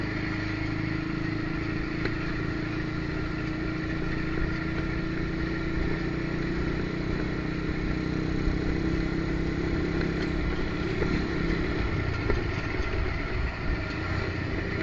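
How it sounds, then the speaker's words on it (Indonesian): A motorcycle rides along a road behind, its engine a continuous mid-pitched drone that stays steady and fairly loud throughout. "belakang kita ternyata ada motor juga ya"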